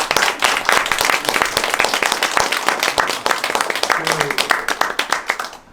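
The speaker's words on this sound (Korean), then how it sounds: "다시 한번 박수 부탁드립니다." Applause from an audience at a village humanities concert featuring a piano performance, dense steady clapping from many hands filling the room, with faint murmuring underneath.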